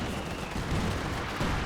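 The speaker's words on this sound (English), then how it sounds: "Artillery just blasting them close range." Artillery firing at close range in Company of Heroes 2 during a 4v4 battle on Essen Steelworks. Dense, heavy blasts roll together into a loud, continuous barrage with no speech.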